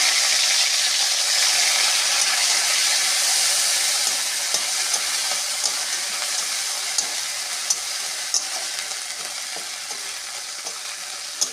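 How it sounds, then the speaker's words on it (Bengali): Nigella seeds, ginger and green chilli fry in hot oil with a steady, close sizzle and crackle, broken by small scattered pops as the spices spit, with no talking. "তেল গরম হয়ে গেছে একটু ফোড়ন দেবো কালো জিরে ফোড়নটা ভাজা হলে আদা আর কাঁচা লঙ্কাটা তেলে ফেলে দেবো"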